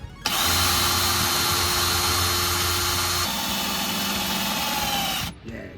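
Power drill boring bolt holes through metal for budget Jegs subframe connectors on a 305 Camaro, a steady loud whine running continuously for about five seconds, with a slight drop in pitch midway before stopping.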